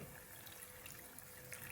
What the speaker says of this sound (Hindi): अब हम इसमें आधा कप पानी डाल देंगे